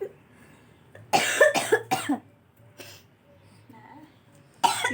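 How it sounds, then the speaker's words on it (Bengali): A few sharp coughs in quick succession, close and loud, followed by quiet and a soft throat sound, then another cough at the end. "কাশি গাইস"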